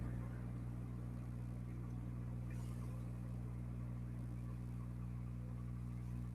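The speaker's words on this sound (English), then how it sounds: "There's a bus that passes by." A bus passing by outside, heard as a low, steady engine drone and road rumble, fairly faint and constant throughout with a slight swell partway through, and no talking.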